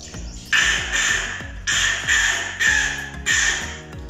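A man imitates a crow cawing with his voice: four loud, harsh caws in a steady rhythm, each rough and drawn out, close and clear with no other sound.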